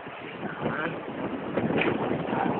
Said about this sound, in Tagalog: Hangin na rin.